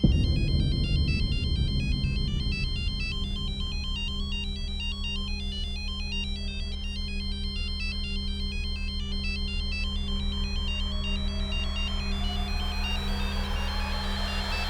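A phone ringtone plays a repeating electronic melody continuously, steady and clear, with a low background hum and no talking.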